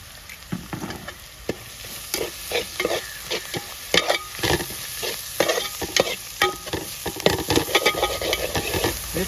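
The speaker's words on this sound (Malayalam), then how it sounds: "സവോള നല്ല വഴലാൻ വേണ്ടി ഇച്ചിരി ഉപ്പ് ഇട്ട് കൊടുക്കാം" Sliced onions with a pinch of salt sizzle and fry in a pan for a Kerala-style chicken roast while a spoon stirs and scrapes them, producing repeated close clinks over a steady crackling hiss.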